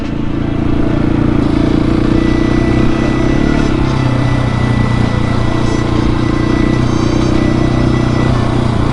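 A 701 motorcycle rides off-road in third gear, its engine droning loudly and steadily for the whole stretch, with only slight swells in pitch as the rider coasts along.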